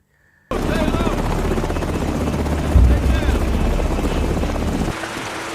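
Helicopter rotor thudding loudly and steadily after a sudden start, a continuous close chopping drone with a brief surge midway, carrying refugees from a mountain conflict zone.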